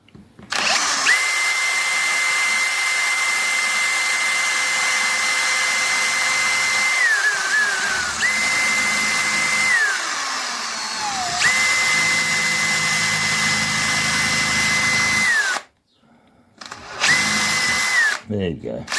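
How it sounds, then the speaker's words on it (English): A power drill bores a hole into a homemade Native American-style flute, running in long steady whining stretches with pitch dips as it bites, pausing briefly between bursts, loud and close. "And we'll drill a hole down about here."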